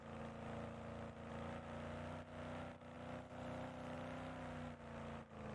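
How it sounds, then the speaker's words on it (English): A car in a roleplay video game drives by as a faint, steady engine drone with a gentle pulsing swell. No speech is present. "So I say I heard a car"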